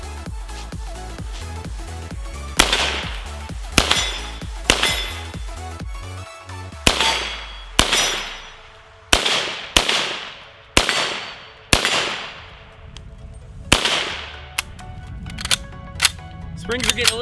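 An M1 Carbine with weak springs fires about a dozen loud, sharp single shots at irregular intervals, each crack ringing off into a decaying echo, with a brief mechanical clatter around the first few.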